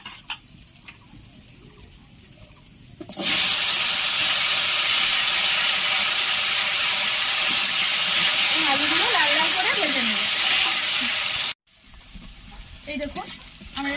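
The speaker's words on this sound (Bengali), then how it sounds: "এবার আমি তেলটাতে আলুগুলো ভেজে নেবো" Potatoes frying in hot oil for a fish-head murighanta give a loud, steady sizzle that swells in suddenly and holds for about eight seconds before cutting off, with a voice faintly speaking over it.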